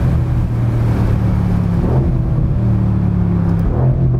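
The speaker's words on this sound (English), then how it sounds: "Thing really rips off downshifts very accurately." Twin-turbo 4-liter V8 of a 2021 Mercedes-AMG GT R on downshifts, a loud continuous engine roar with short blips and rev changes, heard from the cabin.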